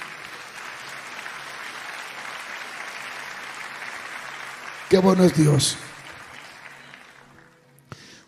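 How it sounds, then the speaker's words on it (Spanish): A church congregation claps for the Lord in steady, even applause that carries on, then a preacher calls out briefly over it as the clapping fades away. "Denle un aplauso al Señor."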